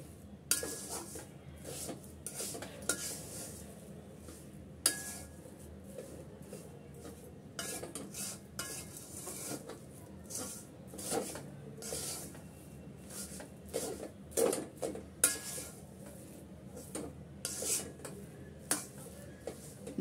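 Spoon scraping and clinking against a pan while a date and date-jaggery laddu mixture is stirred over low to medium heat, quiet, close, irregular taps and scrapes repeating steadily.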